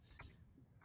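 A few quick, light computer keyboard keystrokes, two or three close clicks within under a second, with one sharper tap standing out over near silence.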